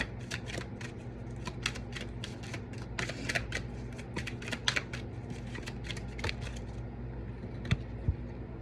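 Tarot cards being handled and shuffled at close range, with a run of quick crisp slaps and riffles followed by a few isolated card snaps near the end, over a low steady room hum and no talk.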